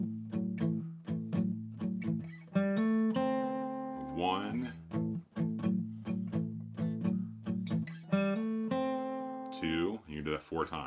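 A guitar plays a blues shuffle on A in repeated rhythmic chugging figures, loud and close, with short gaps and a few sliding notes between phrases.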